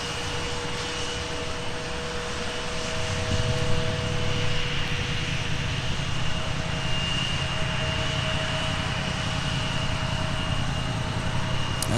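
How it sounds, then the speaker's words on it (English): Airliner on flight 2187 to Miami taxiing across runway 30 left at taxiway Mike at Minneapolis–St. Paul airport, a steady, continuous jet engine rumble and whine holding fairly level throughout, with a slight swell in the low end partway through. "So this is flight 2187 crossing runway 30 left at taxiway Mike headed to Miami."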